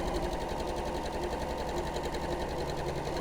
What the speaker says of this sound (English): I'm going to sew along the other one.